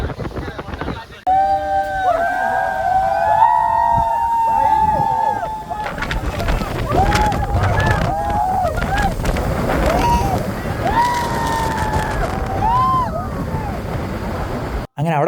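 Strong wind buffets the microphone in long roaring gusts at the Parunthumpara hilltop viewpoint in the rain, loud and continuous, while people talk over it.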